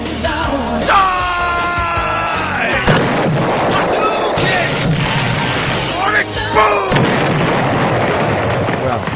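Explosions in the NES game Top Gun crash and rumble nonstop over bleeping chiptune tones and sweeping electronic effects, loud and dense throughout.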